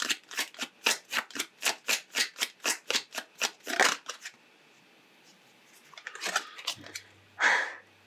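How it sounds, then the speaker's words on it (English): Oracle cards are shuffled close up in a fast, even run of about a dozen crisp riffling snaps, followed by a pause and a few scattered louder card flicks, with no talking. "let's pull a couple of oracle cards and see if there's anything they would like to add"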